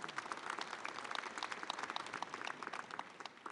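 At the KIMA Week 2013 opening ceremony in Busan, an audience applauds after a fusion gugak performance. The clapping is dense and continuous from a large crowd, heard from a distance and fairly quiet.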